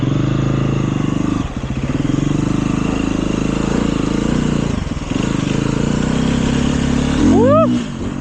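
A KTM motorcycle with an auto clutch ridden at steady throttle, a loud continuous engine drone close to the rider, with two brief dips in power and a rising rev near the end.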